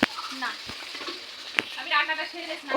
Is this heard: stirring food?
yes